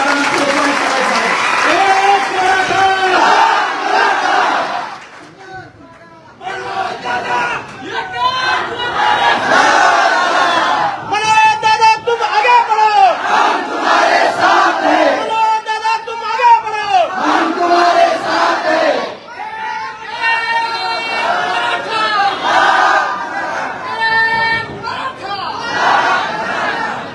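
A large crowd at a Maratha rally in Beed district cheers, shouts and claps loudly and continuously for nearly half a minute, with massed voices rising in waves.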